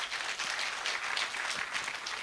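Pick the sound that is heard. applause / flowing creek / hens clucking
applause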